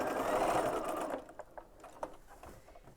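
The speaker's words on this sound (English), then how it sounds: "you can sew that little extra seam while it's still sitting there" A sewing machine stitches a small extra seam on a quilt block, a steady loud whirring run for about a second before it stops, followed by faint handling clicks and fabric rustle.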